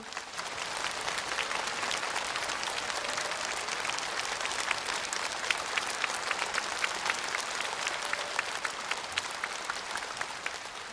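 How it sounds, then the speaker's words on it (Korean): At a 2014 art-song evening concert at the Seoul Arts Center, a large audience claps for a military symphony orchestra: a continuous, crisp wash of applause that stays steady throughout without speech. "여러분 큰 박수 보내주십시오"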